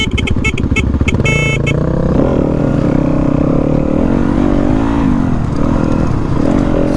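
A 2019 Yamaha WR250F dirt bike ridden on a woodland trail, its engine a loud, steady close drone with the pitch rising and falling as the throttle shifts, plus brief clatter early on.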